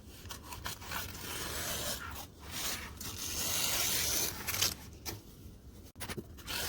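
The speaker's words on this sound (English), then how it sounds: "Now we need to trim the excess facing." Scissors trim excess facing fabric in a run of close, uneven snips and scraping rubs against cloth, with short pauses between cuts and no voices.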